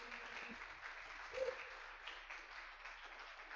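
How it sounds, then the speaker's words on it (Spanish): A church congregation applauds during a sermon with a faint, distant, even wash of clapping that swells briefly partway through, with no talk over it. "Dale un aplauso fuerte al Señor,"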